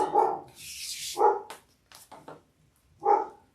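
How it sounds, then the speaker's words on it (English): A dog barks three times close by, sharp separate barks with short gaps, along with some faint rustling and clicks in between. "So, sorry for the barking dog."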